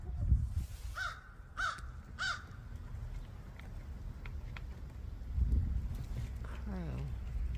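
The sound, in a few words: crow cawing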